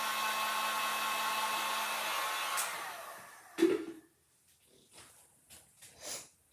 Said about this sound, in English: you don't want to put the heat gun over the gold leaf and blow it all off